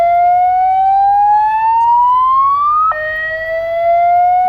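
Building emergency alarm in a role-playing game: a loud electronic siren tone sweeping slowly upward, then abruptly jumping to a new pitch and holding, continuous and close with no voices.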